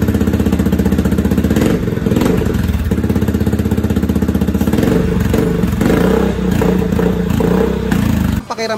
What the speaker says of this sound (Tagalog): Pakiramdam kapag naririnig mo ang sarili mong motor.